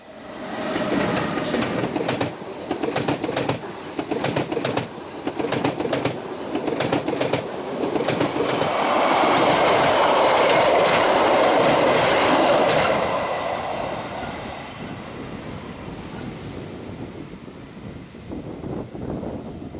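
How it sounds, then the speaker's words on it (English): Locomotive 647 hauling an Alvra articulated train set and three postal containers from St. Moritz to Chur rumbles past with rhythmic clickety-clack over rail joints and a rising, swelling roar mid-pass, then fades. "locomotive 647 hauls one of the 6 Alvra articulated train sets, plus 3 postal containers, on a service from St. Moritz to Chur."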